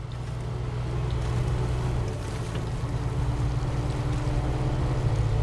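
Upgraded truck engine with max engine and raised suspension in the SnowRunner video game, a loud, steady low drone that holds without breaks, revving hard while bogged down, with no talk over it.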